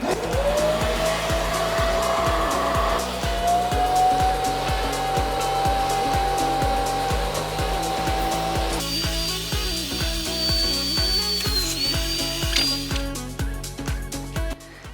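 A Karcher Puzzi 8/1 washing vacuum cleaner whines and roars steadily up close while cleaning a rug, its pitch shifting partway through, with rhythmic scrubbing pulses underneath.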